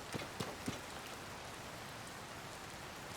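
Steady rain in the Gerudo Canyon area of the video game Zelda: Tears of the Kingdom, a soft even hiss of falling drops with a few faint taps near the start and no talking.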